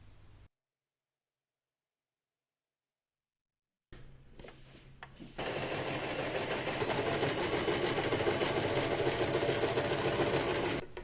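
Sewing machine running steadily as it stitches two straight parallel lines through fabric for detachable patterned sleeves, a continuous close whir that starts after a quiet pause and a few handling sounds.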